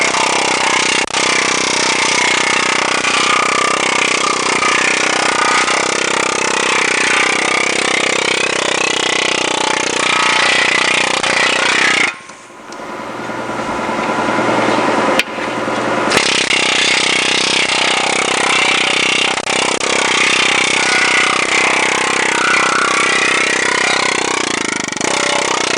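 A planishing hammer shapes a steel motorcycle fender with a loud, continuous, dense machine rattle that runs steadily and cuts out briefly midway before resuming at full strength.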